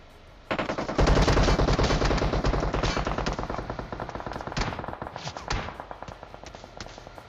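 Rapid automatic gunfire in PUBG Mobile erupts from behind, a loud sustained burst of rattling shots that gradually thins into scattered shots toward the end.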